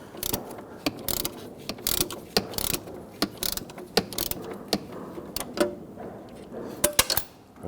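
Ratchet clicks away in quick irregular bursts while loosening rusted transmission mount bolts on a 2017-2020 Hyundai Elantra 2.0L, the sharp metallic ticks close and loud with brief pauses between pulls.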